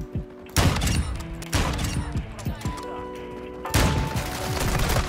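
Gunfire in a Call of Duty match, close rapid bursts of rifle shots with sharp cracks and ringing tails, several volleys in a row with a voice talking underneath.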